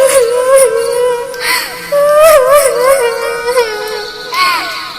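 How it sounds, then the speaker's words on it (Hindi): A cartoon bird cries in a forest, a wavering, high, wailing tone that rises and falls in drawn-out sobbing phrases, loud and close, with short gaps between cries. "एक पेड़ के पीछे से किसी चिड़िया के रोने की आवाज आती है"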